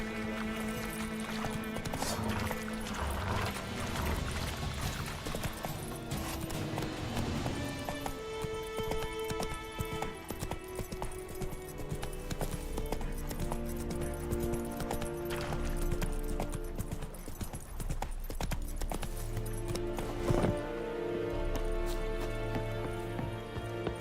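Horse hooves clip-clop in a galloping rhythm while riding in the video game The Witcher 3, steady and close, layered under game music and ambient effects throughout.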